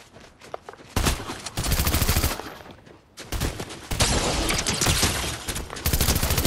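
FAMAS burst rifle firing in a video game, with loud rapid volleys in several long stretches separated by short pauses, close and dominant with no speech.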